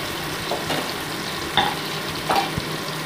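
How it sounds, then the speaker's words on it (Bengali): Mourala fish, a second batch, frying steadily in hot oil with a soft continuous sizzle, broken by a few sharper crackles and spatters near the microphone. "এবার আমি সেকেন্ড ব্যাচের মাছটাকেও আমি ভেজে নিচ্ছি।"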